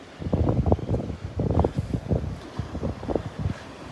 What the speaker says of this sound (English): It's very windy out here.